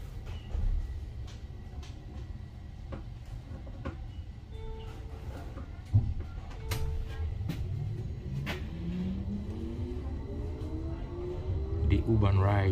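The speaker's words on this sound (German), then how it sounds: "The U-Bahn ride continues." A Stuttgart U-Bahn U2 train runs through a tunnel with a steady low rumble and rolling wheel noise. Rising whining tones build toward the end as it gathers speed, with a sharp clunk midway.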